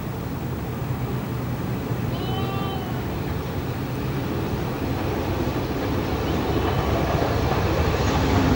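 An LMS Duchess steam locomotive approaches Hellifield Junction on the Settle and Carlisle line, a steady rolling rumble that grows slightly louder, with a faint whistle-like tone partway through.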